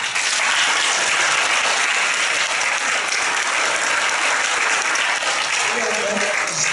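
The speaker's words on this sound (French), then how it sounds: "Je vous invite à donner une bonne main d'applaudissement aux personnes qui ont donné de leur temps et énergie" Sustained audience applause fills a graduation ceremony hall at Collège Boréal's Hearst campus, a dense, steady wash of many hands clapping that stays loud throughout, with faint voices rising near the end.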